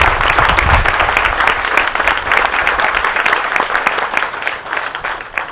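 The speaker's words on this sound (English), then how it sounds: "Let's give them a round of applause" A crowd at a park dedication claps, loud sustained applause from many hands that gradually thins and tapers toward the end.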